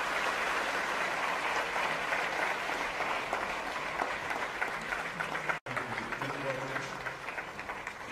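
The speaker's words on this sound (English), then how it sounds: "Ladies and gentlemen, welcome to the round of applause." A live audience at a public conversation event with Sadhguru claps in a long, dense round of applause that holds steady throughout, cutting out for an instant before carrying on.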